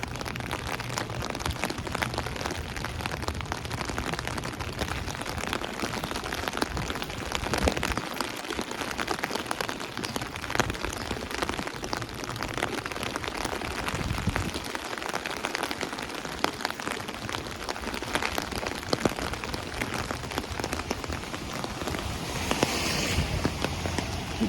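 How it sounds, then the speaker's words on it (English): Steady rain patters loudly on an umbrella during a walk through Howard Beach and Lindenwood in Queens, NYC, a dense, continuous drumming close overhead with no talk. "Although I do want the sound of the rain."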